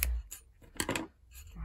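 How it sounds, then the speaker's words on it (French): Scissors snip a white yarn thread while finishing a crocheted Christmas blanket square, giving a few quick, close, crisp cuts with short pauses between them and no talking. "je vais couper mon petit fil blanc qui dépasse"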